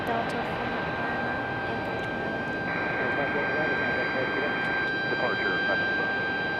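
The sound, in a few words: Delta airliner from Atlanta arriving at Raleigh-Durham airport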